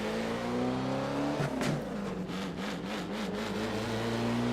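Simulated Alfa Romeo 33 Stradale in the racing game Assetto Corsa, pulling away in first gear with its engine note climbing steadily, then surging and bogging in waves as revs wobble, heard alone without talk.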